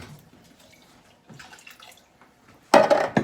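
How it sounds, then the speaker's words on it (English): Water poured into a pan of tomato sauce after rinsing the can, with faint clinks and rustles building to a loud, close splashing gush at the end. "You wanna put a little bit of water, clean your pan, clean your can."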